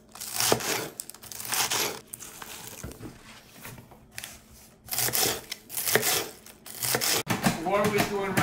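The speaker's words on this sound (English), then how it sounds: "we're going to chop the romaine" A knife chops romaine lettuce for a salad in quick irregular bursts of crisp crunching and slicing, with pauses between the runs of cuts and some talking mixed in.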